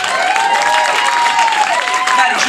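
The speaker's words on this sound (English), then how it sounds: "So please, Sultan Room, give a huge round of applause for the one and only Mahdi Gilbert." Loud applause and cheering from a club crowd in the Sultan Room greet a magician, with sliding whoops and shouted voices riding over the clapping.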